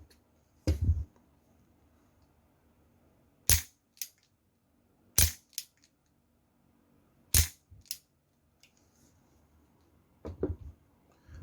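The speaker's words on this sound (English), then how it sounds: "My feeling is the trigger pull is heavy and uneven." Trigger pulls on an airsoft Smith & Wesson Model 327 snub-nose stainless revolver, a series of sharp, close metallic snaps spaced irregularly a second or two apart, some followed by a quick second click.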